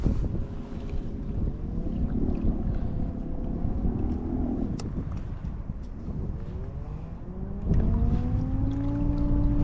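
An FLTB MTR electric motor driving an FLTB 5 float tube on water, a close whine that sweeps up and down in pitch as speed changes, over wind noise and water movement.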